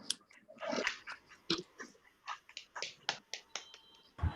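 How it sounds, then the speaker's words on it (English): A handful of grade-three students clap in a classroom during a STEM week presentation, sparse, uneven claps near and fairly quiet, coming in separate bursts rather than a full ovation. "Can we have a big clap for Umar, please, everyone?"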